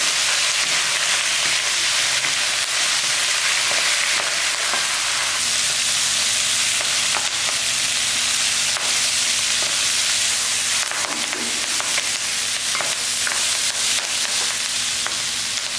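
Vallarai (Centella) greens sizzle steadily as they are sautéed in a hot pan for a thuvaiyal. The hiss is continuous and close, with occasional scraping stirs.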